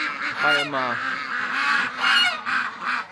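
Ducks kept locked up in a winter pen on a rainy day call out repeatedly in loud, harsh honking quacks, several birds overlapping in close, steady bursts.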